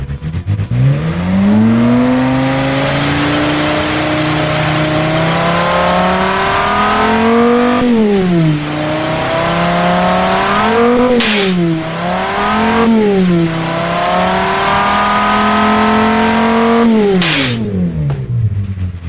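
A boosted car engine in the video game Automation revs hard and loud, its tone climbing in long sweeps with several sharp drops and re-rises between gears or throttle lifts, alone without voices.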